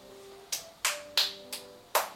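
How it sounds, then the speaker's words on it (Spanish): A small audience claps for the child Tavito after he recites a poem. Five sharp, separate claps land at an uneven, roughly half-second pace, close and fairly quiet, with no talking over them. "Muy bien, palmas para Tabito."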